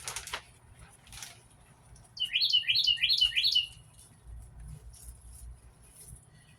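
A bird chirps in a quick run of repeated high notes for about a second and a half, fairly close and clear over a quiet background.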